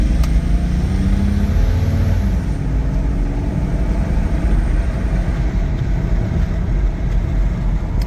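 A 1994 Toyota Land Cruiser FZJ80 engine pulls hard on a kickdown, a loud, close, rumbling drone that swells early and then holds steady and strong, with no talking.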